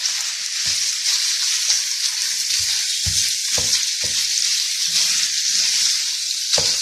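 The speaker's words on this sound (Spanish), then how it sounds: "Ahora vamos a echar la carne picada." Minced meat hits a pan already frying with bacon for Simpsons-style chili dogs, giving a steady close sizzle with occasional stirring scrapes and clacks throughout.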